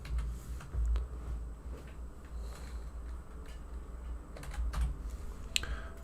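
Typing on a new computer keyboard while making a digital comic storyboard: a close, quiet run of irregular key clicks with scattered sharper taps and pauses, no voice.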